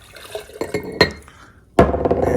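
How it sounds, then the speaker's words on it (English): Green juice from a Nama J2 juicer is poured into a glass mason jar: a few sharp glass clinks and knocks, then a sudden loud, steady splashing pour that fills the last second. "I will pour the remaining amount in without trying to spill it"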